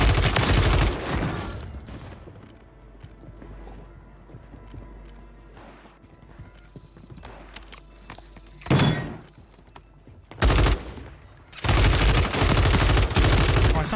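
Automatic gunfire from an FJX Horus submachine gun in Warzone 3, loud bursts opening and closing the stretch with isolated sharp shots between, over quieter in-game ambience and footsteps.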